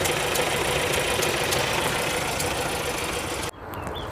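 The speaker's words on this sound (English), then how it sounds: "That's a very quiet and peaceful engine." A 1967 Audi 80 Variant engine running quietly, a steady even idle with dense mechanical hum throughout, close and continuous before dropping slightly near the end.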